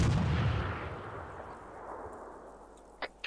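A detonated charge explodes in the ArmA 3 game with a heavy boom at the start that rolls off into a long fading rumble, followed by a couple of small pops.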